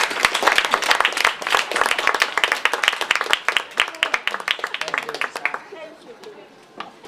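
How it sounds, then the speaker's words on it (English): Audience applause at a talk, a room of individual claps loud and close at first, thinning and fading to scattered claps and quiet by the end. "give him a round of applause"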